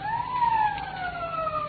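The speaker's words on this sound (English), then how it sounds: "Police siren." Police siren sound effect in an old radio drama, a steady wailing tone rising and slowly falling, moderately loud with a slightly muffled broadcast quality.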